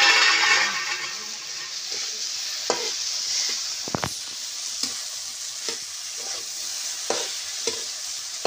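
Okra sautéed with masala, turmeric and chilli in a pan, a steady close sizzle with periodic spatula scrapes and stirring clicks, no voices.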